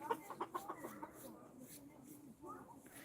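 Chickens cluck in a short run of sharp, rhythmic calls, then quieter clucking and soft rustling outdoors at moderate distance.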